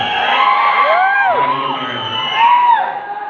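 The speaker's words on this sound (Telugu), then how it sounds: "ఈ అరుపులే ఇండస్ట్రీ బతుకుందంటే కారణం అరుపులే" Fans at a film pre-release event cheer, whoop and shout together in a loud, sustained crowd roar with rising and falling yells.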